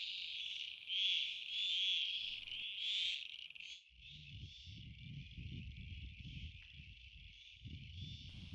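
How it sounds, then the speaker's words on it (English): At night, a continuous high trilling chorus of frogs fills the background, joined partway through by lower, pulsing croaks close by. "Some frog species are really vocal and sing all night long"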